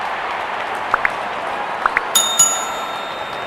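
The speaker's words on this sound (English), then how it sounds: "Openers walking in and the crowd cheering in anticipation." Crowd cheering and clapping at a Nepal versus West Indies 'A' T20 cricket match as the openers walk in, a steady distant roar of applause punctuated by sharp bell dings and horn-like tones.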